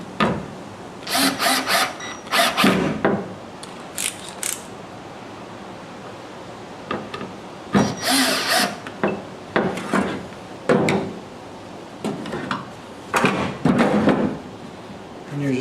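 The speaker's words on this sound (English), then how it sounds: "Alright, so I'm going to get my screws started." Drill driving screws into the wooden boards of a cheap homemade potato box, heard as several separate buzzing bursts of a few seconds each with quiet pauses between them, fairly close and loud.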